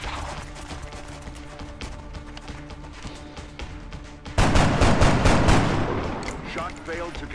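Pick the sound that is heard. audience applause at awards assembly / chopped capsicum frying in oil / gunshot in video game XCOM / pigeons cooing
gunshot in video game XCOM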